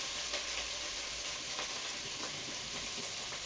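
Spice paste sizzling and frying in a pan, a steady crackling hiss with small popping bursts, close and fairly soft, with no talking.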